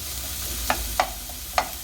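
Onions frying in a pan for spaghetti bolognese, with a steady soft sizzle and three sharp clinks of a utensil scraping and stirring against the pan.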